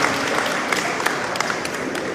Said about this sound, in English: I want you guys to give yourselves a round of applause for the great work you are doing for